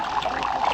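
Food poured into the water of a seahorse tank at a seahorse farm, a steady close trickling and dribbling splash running unbroken through the brief moment.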